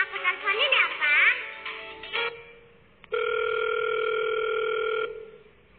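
A voice speaks briefly, then after a short pause a steady telephone dial tone sounds for about two seconds as a call is placed, clear and alone.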